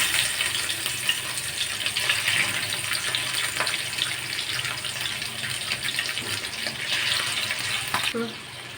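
Mutton kidney pieces frying in oil in a pan, a loud continuous sizzle and crackle with some stirring, fading slightly near the end.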